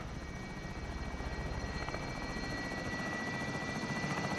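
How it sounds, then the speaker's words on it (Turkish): Extraction helicopter arriving in Call of Duty: Warzone, a steady whirring rotor drone with engine hum that holds loud and constant throughout, no voices over it. "Helikopter geldi."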